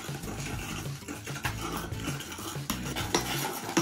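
Slime mixed with kinetic sand being stirred, a continuous gritty squelching and scraping close up, with soft clicks and rasps throughout and no voices.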